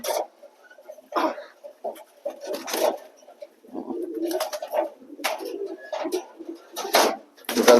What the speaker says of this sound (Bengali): একটা ফ্যান্টলকে ধরলাম